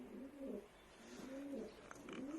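Racing homing pigeons coo inside their loft, soft repeated throaty calls in three rising-and-falling phrases, fairly quiet against a faint background.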